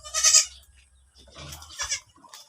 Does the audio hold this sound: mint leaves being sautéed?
no